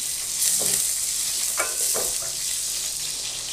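Cumin, bay leaves and green chili sizzle in hot oil for a beef karahi. The close, steady crackling fry is punctuated by a few spoon-stirring scrapes, with no talking.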